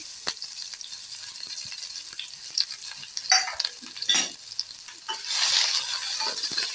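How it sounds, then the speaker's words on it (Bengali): Tomato and ginger paste fries in oil, giving a soft, close sizzle with a few spatula scrapes and clicks against the pan, briefly louder and hissier toward the end. "টমেটো এবং আদা বাটাটা দিয়ে আমি একটু ভেজে নেবো এগুলো তেলে"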